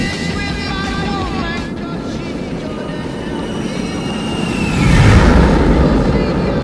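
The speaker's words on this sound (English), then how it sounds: "First, we have the American F-18 Hornet, a powerful and legendary aircraft." An American F-18 Hornet jet in the War Thunder video game gives a steady, loud engine roar with whining tones, swelling louder near the end.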